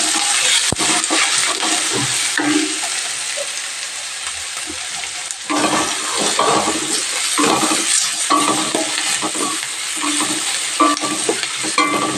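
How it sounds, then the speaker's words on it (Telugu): Ivy gourd curry with turmeric is stirred in a pan. A continuous bright sizzle of frying runs throughout, with the spoon scraping repeatedly, close and fairly loud. "కలుపుకుందాం."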